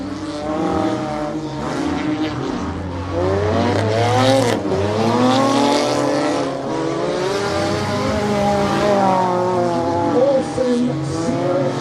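Demolition derby cars at a fall clean-up show in Ottertail, Minnesota, roar around a dirt track, their engines revving and rising in loud overlapping sweeps, close and continuous.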